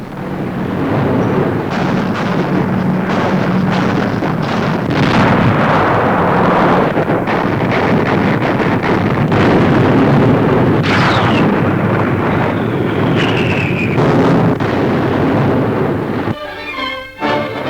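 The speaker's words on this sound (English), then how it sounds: "Big bombers softening up Rommel's Africa Corps with load after load of high explosives." Archival wartime newsreel footage of bombers dropping high explosives on Rommel's Afrika Korps in North Africa, with a dense, continuous roar of blasts and rumbling that stays loud throughout and ends with a brief crackly break.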